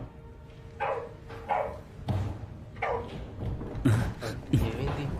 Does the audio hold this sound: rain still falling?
no